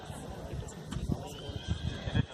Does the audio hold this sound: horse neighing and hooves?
yes